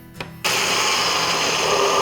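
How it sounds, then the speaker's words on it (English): A blender kicks on suddenly after a brief quiet moment and runs loud and steady, whirring toasted sunflower seeds and vegetable oil into a paste. "Now we're gonna blend it up."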